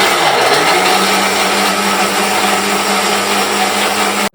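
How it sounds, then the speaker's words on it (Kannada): A mixer grinder chops cucumber in a village kitchen in Mangalore. It gives a loud, steady, close whirring roar throughout, then cuts off abruptly at the very end. "ಸೌತೆಯನ್ನು ಮಿಕ್ಸಿಯಲ್ಲಿ ಕಡಿತಾ ಇದ್ದಾರೆ."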